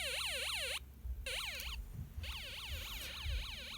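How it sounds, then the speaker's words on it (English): A Snap Circuits toy electronic siren wails in rapid rising-and-falling sweeps, cutting out abruptly several times and starting again, loud and close with nothing else heard. "the siren goes on and off"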